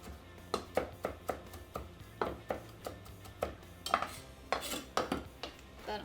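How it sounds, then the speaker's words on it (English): Fresh mint being chopped for salsa, a knife striking a cutting board in a steady series of close, crisp knocks, about a dozen over several seconds, with no talking. "So I'm just going to chop up some mint to go into my salsa."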